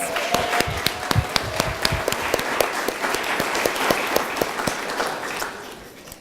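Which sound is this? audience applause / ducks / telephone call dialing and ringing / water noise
audience applause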